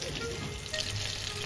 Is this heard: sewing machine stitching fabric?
no